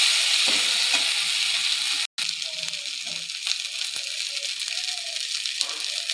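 Fried small chuno fish stirred in a pan, a close sizzling hiss with scraping spatula strokes and light metallic clinks, briefly cut off once before the frying continues.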